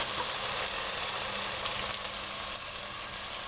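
Onions for Malaysian mutton masala fry in a pan with a constant, loud, dense sizzle that stays even throughout, with no talking.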